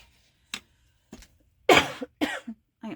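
A person coughs in a series of short, sharp bursts, first two small isolated coughs, then a louder cluster of three or four harsh coughs close to the microphone, with quiet pauses between.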